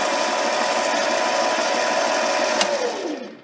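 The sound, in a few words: metal lathe cleanup pass removing burrs from a shoulder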